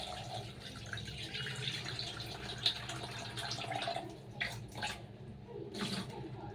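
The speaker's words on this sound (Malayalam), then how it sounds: "ഇനി ഇതിനകത്ത് കുറച്ച് വെള്ളം പിടിച്ച് ഫ്രീസറിനകത്ത് വയ്ക്കാം" Water runs softly into a dish holding six or seven fish pieces, a faint continuous trickle with a few splashy bursts toward the end, quiet and close without talk.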